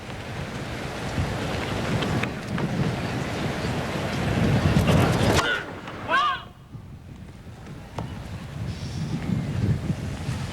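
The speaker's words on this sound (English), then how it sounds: "Very windy now." Strong wind buffets the microphone in a continuous roar that rises and falls during the 1981 US Open tennis semifinal, with brief crowd noise and talk mixed in.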